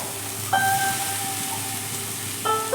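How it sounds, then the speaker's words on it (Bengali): A steady, bright sizzle of vegetables frying in a hot pan as drumstick flowers are added, with a few short tonal squeaks on top, close and continuous. "দেখো সবজিগুলো ভাজা ভাজা হয়ে গেছে এবার আমি ফুলটা দিয়ে দিচ্ছি"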